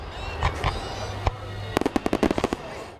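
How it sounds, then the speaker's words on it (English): A fountain-type consumer firework spraying showers of sparks, with a few scattered pops followed by a rapid burst of sharp crackles and snaps, fairly close. "one of the labels in these particular fireworks is it's emit showers of sparks"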